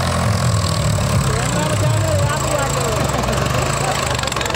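A Swaraj 855 tractor engine runs at a steady idle-like throb, with a loud, continuous low rumble and a faint knocking texture throughout.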